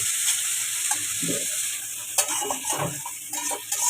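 Chow mein frying with a bright, steady sizzle up close, mixed with intermittent scraping and clinking of a utensil against the pan, no voices.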